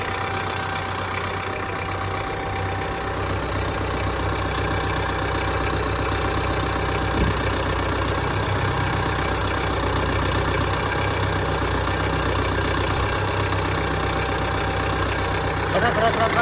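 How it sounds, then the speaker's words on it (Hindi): A Mahindra XUV300 engine with an EVGT turbo idles steadily after being started, a continuous low mechanical hum and clatter running throughout, with someone talking over it. "इंजन हमारा हमने कर लिया स्टार्ट इसका।"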